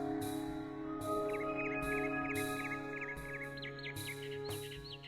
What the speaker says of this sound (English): I guess that was the bird saying goodbye.